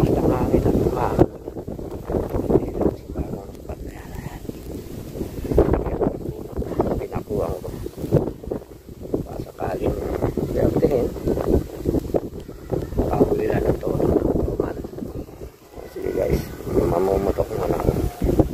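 Strong wind batters the microphone on a fishing boat at sea, a steady loud roar with gusts, while someone talks over it at intervals.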